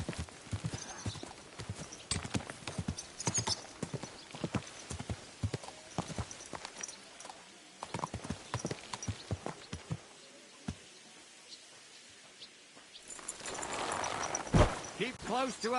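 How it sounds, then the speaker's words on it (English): Horse hooves clip-clopping in a medieval open-world game, Kingdom Come Deliverance 2, a steady run of close, distinct hoof strikes with occasional whinnying, broken by a quieter stretch before a louder burst near the end. "Easy, good horse."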